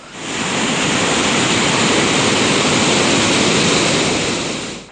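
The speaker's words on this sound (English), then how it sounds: "The 10 spill gates of the Parakrama Samudra have been opened by a foot each, with the excess water flowing into the Mahavali river" Water from the ten spill gates of the Parakrama Samudra reservoir, each opened by a foot, rushes into the Mahavali river with a loud, steady broadband roar that fades in and out and holds constant throughout.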